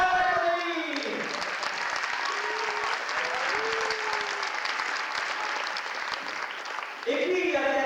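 An audience applauds in a dense, steady wash of clapping that lasts throughout, with a voice speaking over it briefly at the start and again near the end.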